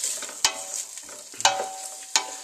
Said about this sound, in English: Oil's nice and hot, so the onions shouldn't absorb that oil flavor